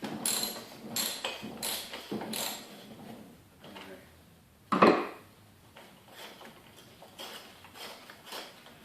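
An old Craftsman ratchet wrench, owned since the early 1980s, clicks in short bursts while working on a 1992 Craftsman 5HP Tecumseh mower, close up, with one sharper metallic clank midway and quieter ratcheting after.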